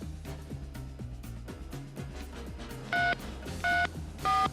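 Three short telephone keypad tones beep in a row over a background of rhythmic music, each tone clear and distinct.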